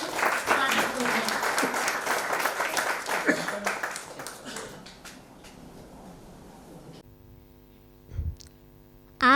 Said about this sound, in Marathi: आपण जोरदार टाळ्या वाजवून स्वागत करूया